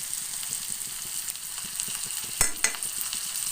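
Ginger-garlic paste with onions sizzling and frying steadily in a pan, a continuous close hiss with a couple of louder crackling bursts as ingredients are stirred in.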